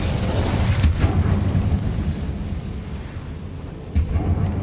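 An Incendio fire spell erupts in a video game as a low, rumbling whoosh of flame with a couple of sharp bursts, loud and close, holding steady before a final thump.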